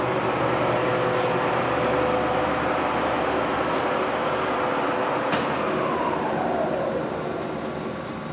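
A Monarch 25 x 48 toolroom lathe feeds its carriage toward the headstock, a loud, steady mechanical hum and whir running continuously and close.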